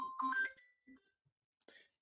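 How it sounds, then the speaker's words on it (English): A phone ringtone plays a short, faint melodic pattern in separate bursts, sounding somewhat distant and quiet. "A phone is ringing."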